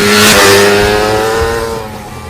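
A Yamaha TDR motorcycle engine revs loudly up close, holding a rising whine before the pitch drops and the sound eases off.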